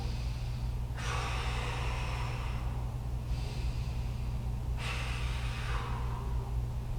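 Deep yoga breathing during a chest-opening stretch: three slow, airy breaths, each a few seconds long and evenly spaced, close and soft over a low steady hum.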